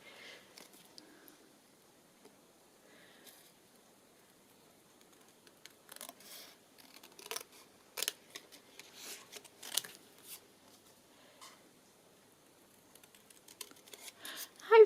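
Scissors cutting cotton ribbon for a small cottage-style journal, heard as scattered short snips and crisp rustles, close but faint against near silence, with a sharper cluster of cuts partway through.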